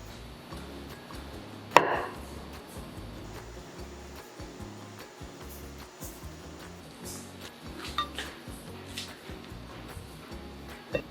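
A knife slices through a block of tofu on a cutting board, giving a few faint, scattered taps and one sharper knock. A steady low hum runs underneath throughout.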